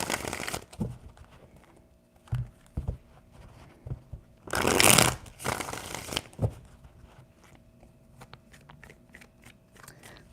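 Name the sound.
shuffling tarot cards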